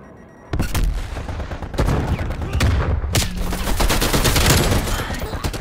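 Sentry turret gunfire in Call of Duty: Black Ops Cold War erupts as loud, sustained rapid automatic bursts with dense overlapping shots and a few heavier booms, continuing for several seconds.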